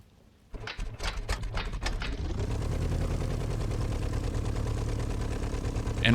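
A J-3 Cub's engine coughs through a few uneven firing pulses, then catches and settles into a steady, loud running drone with a rhythmic beat, as heard in a flight simulator.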